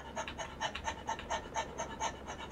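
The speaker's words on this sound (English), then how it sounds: "well, it's just the sound of a dog going" A dog pants rapidly and rhythmically, close by, quick breaths repeating evenly for the whole stretch, in the farming video game Farming Simulator 19.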